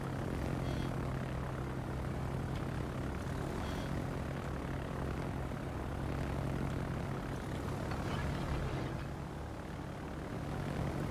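Attacker aircraft in the World of Warships naval game drone overhead with a steady propeller-engine hum that holds at moderate loudness throughout.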